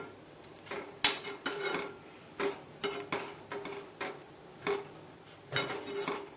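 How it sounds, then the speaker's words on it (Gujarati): Raw mango murabba stirred as it cooks in a pot: a spoon knocks and scrapes against the metal in irregular, fairly close clinks, roughly one every half second, with quiet gaps between. "તો મુરંબાને આપણે આ રીતે હલાવતા રહી અને પકાવવાનો છે"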